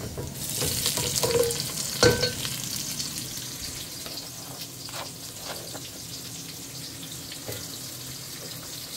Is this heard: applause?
no